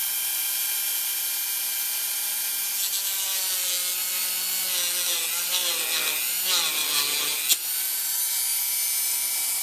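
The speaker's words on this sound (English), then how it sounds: "Now I'm going to have to get a little file or something and just kind of work it." A small hand file works a Yamaha Electone keyboard's metal contact, giving a steady close scraping rasp that grows busier and more uneven partway through, ending in a sharp single knock.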